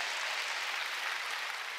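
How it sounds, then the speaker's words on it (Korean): A church congregation at a Korean New Year's Eve service claps hard together, producing a dense, continuous wash of loud applause with no voices. "박수 치려면 세게 치라니까. 더 세게 하라니까."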